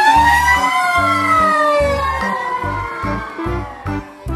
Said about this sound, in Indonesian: Widih, ada mobil truk pemadam kebakaran.